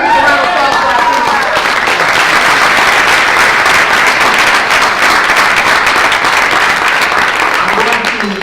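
Sustained loud applause from an audience of students at a Black History program, dense even clapping that swells and holds for several seconds before tapering.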